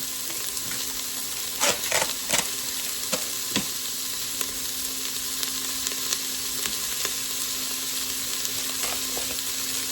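A small whole onion sizzles steadily in a hot pan, with occasional sharper crackles and stirring scrapes over a continuous frying hiss, close and moderately loud with no talking.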